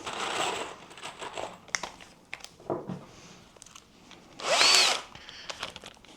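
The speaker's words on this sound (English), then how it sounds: "So the pilot just goes full depth of the screw. Just guides it into the timber." A power drill bores pilot holes into brittle reclaimed oak timber, with short close whirring bursts, some clatter and handling, and one loud high-pitched spin near the end.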